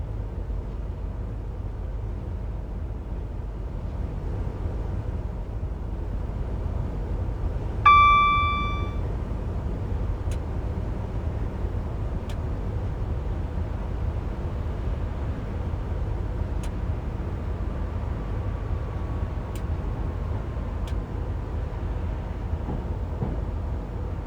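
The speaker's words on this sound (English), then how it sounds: "The door opening alarm on the 390s." A Class 390 Pendolino door opening alarm in the Train Simulator game on the West Coast Main Line sounds once as a short, clear electronic tone over a low steady rumble, followed by a few faint clicks.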